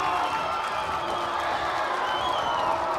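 A wrestling arena crowd cheers and shouts in a steady, dense roar during a Shane Helms versus Lizmark Jr. match.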